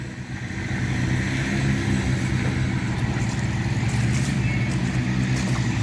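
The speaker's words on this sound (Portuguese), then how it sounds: "o caminhão ali, ó. O 3351, viu? O Arox." Mercedes-Benz Arox 3351 truck at a sugarcane harvest site, its diesel engine running as a steady, loud low rumble that swells in the first second and then holds even throughout.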